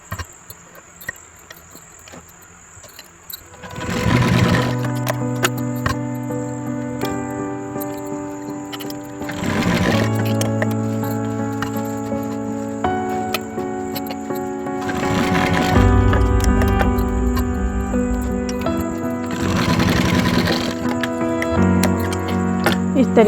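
A domestic sewing machine runs in four separate stretches, stitching along the edges of a blouse lining and its darts. Each run is a steady mechanical whir with a rapid needle clatter, separated by short pauses and handling noises, with no talk.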